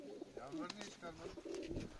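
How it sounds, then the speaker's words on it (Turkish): Pigeons coo close by while being fed, several soft throaty calls overlapping in quick succession. "Kuşlarımı yemliyorum."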